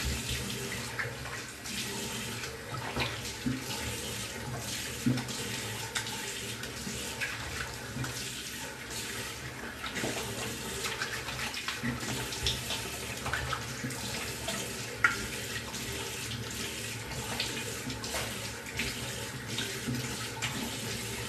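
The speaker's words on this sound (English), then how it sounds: "I'm going to rinse off with some cold water." A tap runs cold water steadily in a sink for a rinse after a kamisori straight-razor shave, a continuous close splashing stream with small clinks, and no talk.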